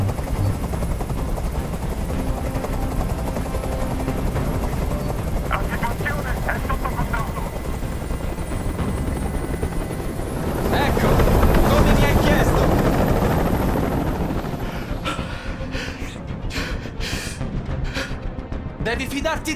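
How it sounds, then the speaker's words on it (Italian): A helicopter hovers in the video game Detroit: Become Human, its steady close rotor thumping and engine whine running continuously beneath dramatic music and effects, swelling louder midway. "Questo rumore mi sta facendo impazzire! Digli di mandare via quell'elicottero!"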